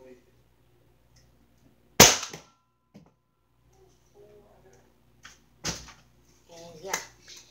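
A toy gun fires one sharp, loud crack in a quiet room, followed later by a couple of softer snaps as a person talks.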